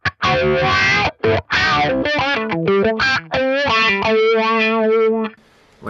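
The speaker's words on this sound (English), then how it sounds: "This is using the Crybaby, so I'll turn that on and I'll just attach it to the LFO so you can hear what the wah sound is doing" An electric guitar runs through a Crybaby wah effect on a Fractal AX8 swept by an LFO, distorted chords and notes sweeping rhythmically in tone, loud and close, with no talk.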